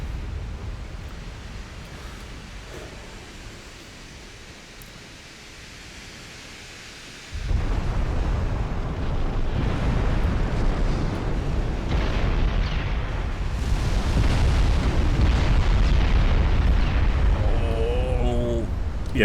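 Naval shells in a British Classic campaign video game, high explosive and armour-piercing rounds striking ships: a heavy, booming rumble suddenly swells and rolls on continuously like thunder, loud and dense, with a voice faintly under it.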